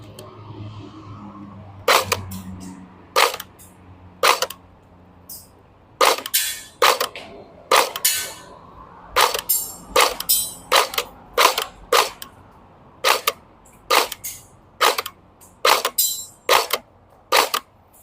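Tokyo Marui Colt M16A2 electric airsoft gun fires sharp single shots at a target, about twenty snappy cracks at irregular intervals, close and loud, with a faint hum between.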